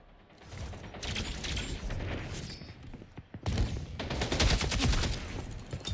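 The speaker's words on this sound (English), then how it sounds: "again with the shotgun" Rapid gunfire bursts in the Splitgate 2 arena shooter, loud cracking shots clustered in two volleys with mechanical clatter between them.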